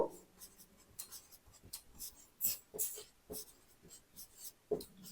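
A pen scratches across paper in short, quiet strokes, close and faint, as numbers are written while working a class five maths problem.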